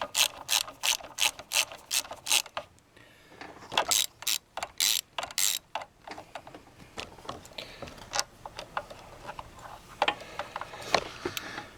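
A hand ratchet works a bolt on the thermostat housing of a Chevy Blazer with a Vortec engine, giving close, crisp bursts of rapid clicking. The bursts come in quick strokes with short pauses between them.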